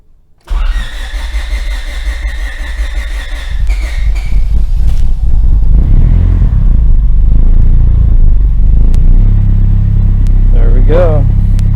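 A Honda D16Y8 engine swapped into a Suzuki Vitara cranks with a whirring starter, then catches and settles into a loud, steady close-up idle, with a voice speaking briefly near the end.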